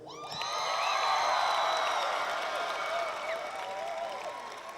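Graduation ceremony audience applauding steadily with cheers and whoops at a 2015 high school commencement, a broad crowd wash that swells and holds for several seconds.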